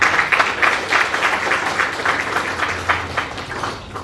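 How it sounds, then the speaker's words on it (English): Members at an association dinner meeting give themselves a lively round of applause, with many hands clapping in close, uneven waves that stay loud throughout before starting to thin out. "Please give yourselves a round of applause."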